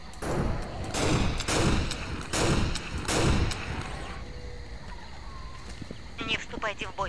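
Weapon fire from an alien creature in the Aliens vs Predator video game: several heavy, booming blasts in a slow rhythm, followed by quieter game ambience and faint chirping creature sounds.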